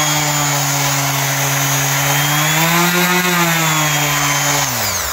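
An electric orbital sander with freshly replaced carbon brushes runs steadily at close range, a loud continuous motor whine that holds pitch, rises slightly, then begins to wind down at the end.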